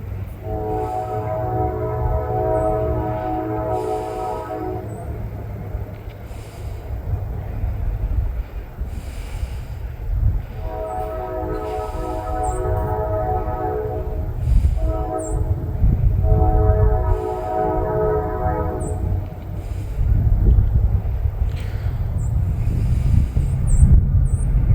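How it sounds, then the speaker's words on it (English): Fast westbound trains roar past beside a quiet cemetery, a loud continuous rumble of wheels and cars with several long horn blasts sounding over it, close and sustained throughout. "we're getting some westbound trains here"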